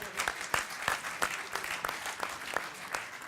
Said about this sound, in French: Applaudissez bravo